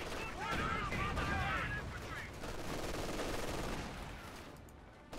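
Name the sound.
gunfire from Grenadiers in Company of Heroes 2 video game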